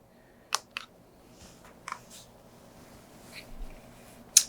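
Keys clack on a ROG Azoth mechanical keyboard fitted with GMK Cyberdeck keycaps, a handful of sparse, close, crisp clicks spread out with quiet gaps between them.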